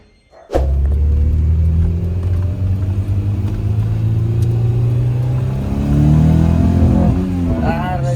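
A car with a Honda B16 VTEC engine starts abruptly into a loud, close rumble that holds steady, then the pitch climbs as it revs harder on a test drive.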